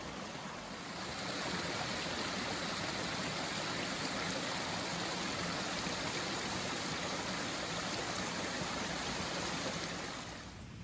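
A river flowing through woodland, a steady, dense rush of running water that swells in after the first second and holds evenly throughout before easing slightly at the end, with no voices.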